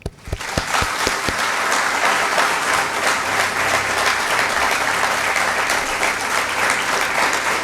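Sustained audience applause at a startup talk, opening with a few sharp separate claps before swelling into a dense, steady ovation that continues loud and even throughout.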